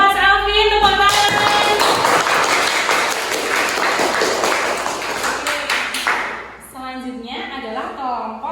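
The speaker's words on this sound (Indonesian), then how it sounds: "Good job untuk Mas Alvin, tepuk tangan." Students in a classroom clap together in a dense burst of applause lasting several seconds, fading as a teacher's voice returns at the end; speech overlaps the start.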